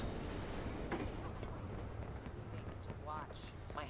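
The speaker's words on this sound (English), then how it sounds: "Southbound train arriving shortly." A train pulls into a station in the Watch Dogs video game, with a low rolling rumble and faint wheel squeal while a voice speaks over it.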